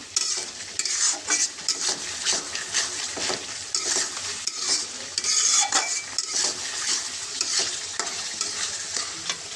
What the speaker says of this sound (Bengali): মশলা কষানো হলে মাংসগুলো দিয়ে দেবো।